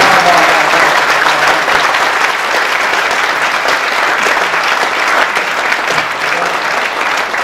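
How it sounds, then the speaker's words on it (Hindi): Sustained audience applause, dense and loud, a large crowd clapping continuously throughout at a comedy poetry gathering. "आपकी तालियां भी नहीं होती उसके लिए"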